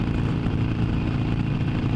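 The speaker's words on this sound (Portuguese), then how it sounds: "Pra você andar aqui ouvindo esse som da moto é foda" A Harley-Davidson 883 Iron cruising on the BR-101 highway, its engine giving a steady low rumble under rushing wind noise, loud and constant with no pauses.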